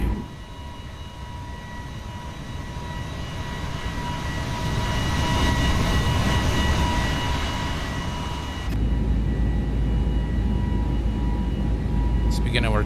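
Simulated Airbus A320neo airliner in X-Plane 12 roaring past on a climbing departure from Washington, a steady loud engine rumble and whine that swells mid-pass, then shifts abruptly to a heavier low drone.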